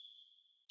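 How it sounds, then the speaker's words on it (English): A referee blows the half-time whistle in a football video game, a single steady high whistle held for well over half a second before cutting off abruptly. "And the half-time whistle goes."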